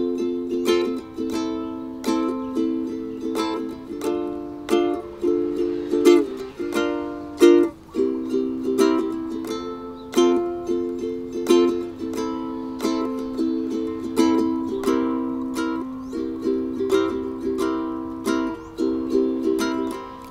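A ukulele strums the chords of a Polynesian song in a steady, fairly quick rhythm of bright, sustained chord hits, played alone and close with no voices.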